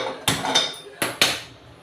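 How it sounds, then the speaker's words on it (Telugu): A metal kadai pan is set onto a gas stove while cooking a bean and tomato curry. Four sharp, close metallic clanks come in two pairs within about two seconds, each with a short ringing decay. "కళాయి పెట్టుకోవాలి గ్యాస్ వెలిగిద్దాం"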